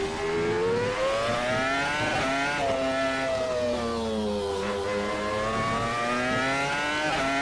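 A Renault R25 Formula 1 car engine in a racing sim, a loud continuous high-pitched whine that dips and rises as it shifts down into first gear and pulls away, with no talk.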